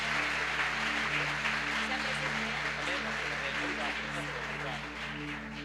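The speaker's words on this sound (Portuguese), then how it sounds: "Dá uma salva de palmas aí para o pastor e para a pastora." A church congregation applauding its pastor and pastora during a service, broad clapping spread across the room over a steady low hum, continuous and fairly loud.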